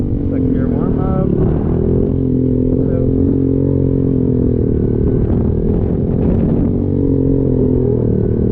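A Honda Grom motorcycle pulls away in second gear, its small engine droning loud and steady close by as it accelerates, with a rider's voice faintly present.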